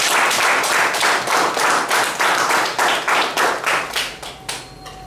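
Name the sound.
audience applause for the MC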